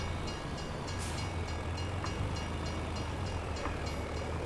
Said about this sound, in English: The barriers have detected the trains coming